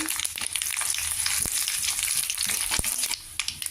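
Cumin, mustard seeds and dried red chillies fry in hot oil, a loud close crackling sizzle with sharp pops and spatters throughout, and no talking.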